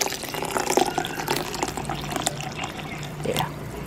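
Warm water poured over grated coconut in a mixer grinder jar for kokum sol kadhi: a continuous splashing pour with small gurgles and drips at close range, fairly quiet, with no talk.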